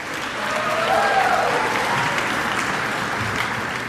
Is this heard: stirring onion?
no